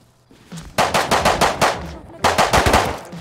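MP5 automatic fire in the video game Rust, two rapid bursts of close, loud shots with a short pause between them.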